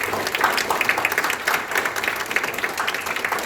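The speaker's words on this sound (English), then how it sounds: "round of applause for them" A dense round of applause from a large crowd, steady and full throughout without pauses.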